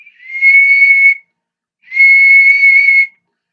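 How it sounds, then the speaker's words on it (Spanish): Two sustained, steady blown tones from the simple whistle on a replica Guariti Guanaco whistling bottle, each about a second long, separated by a short pause, clear and close with nothing else behind them. "este es un silbato simple, ¿ven? Es solamente un silbatito que está aquí, y este entonces se hace sonar solo soplándolo"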